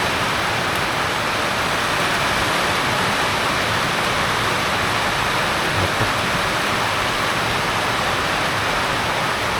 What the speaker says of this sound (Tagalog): tumutulo pala dito